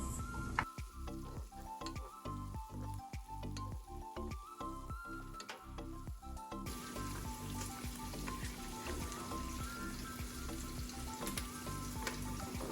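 Onions frying in a pan while cooking cauliflower maqlooba, a steady close sizzle with scraping stirs and ticking clatter of the utensil, continuous and fairly soft, with no voices.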